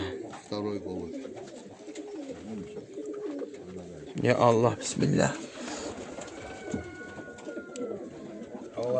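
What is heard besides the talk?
male magpie-pattern racing pigeon cooing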